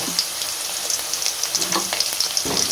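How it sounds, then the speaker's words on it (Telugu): Onion and garlic sizzle loudly in hot oil for a mushroom curry, a dense continuous frying hiss with light crackles and stirring. "ముందుగా ఎర్రగడ్డ వేసేసుకోవాలి"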